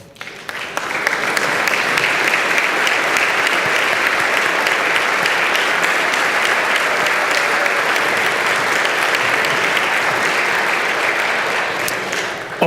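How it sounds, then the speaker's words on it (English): A standing audience gives loud, sustained applause, with dense continuous clapping that holds steady for the full length and no talking over it. "Would you please stand for a little bit of applause?"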